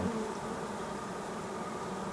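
A dense, steady buzz of a swarm of bees being hived fills the air, constant and close with no talking.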